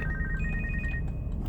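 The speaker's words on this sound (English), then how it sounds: "That was a toll-free phone call." A telephone rings with an incoming toll-free call, a steady electronic ringtone that sounds clearly and close on its own, with no talking over it.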